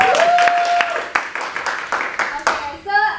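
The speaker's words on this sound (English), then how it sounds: "give applause to Eva." Students in a classroom giving a short round of applause, a handful of separate, uneven claps that thin out, after a teacher's voice briefly trails off.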